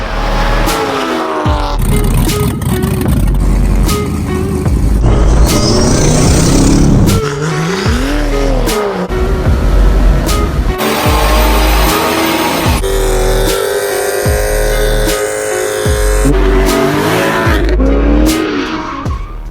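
A turbocharged LS-swapped BMW E36 makes repeated loud pulls, engine note rising and falling with sharp tire squeal and skidding bursts, close and dominant throughout.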